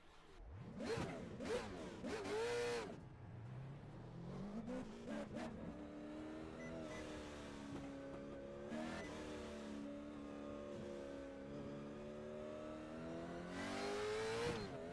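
Late model race cars at Nashville in iRacing, engines revving and rising in pitch as they accelerate, with several cars passing close by in sweeping bursts and a sustained drone between them.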